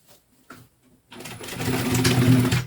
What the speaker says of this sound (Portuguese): E tem que costurar bem rente ao vivo.